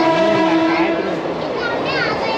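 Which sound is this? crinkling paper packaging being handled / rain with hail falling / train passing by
train passing by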